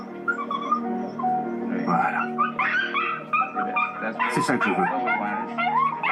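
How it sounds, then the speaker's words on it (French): A female dog in an anxiety attack, triggered when a collar touches her ears, whimpers and yelps in short high cries, close by and mixed with someone speaking French over it. "la chienne fait une crise d'angoisse"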